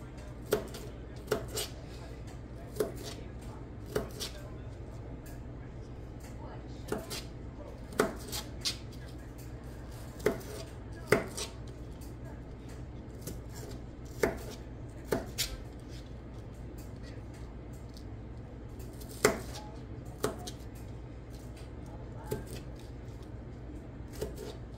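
Vegetables chopped on a cutting board during Thanksgiving cooking prep, sparse knife taps spaced a second or more apart, fairly faint and close over a low steady hum.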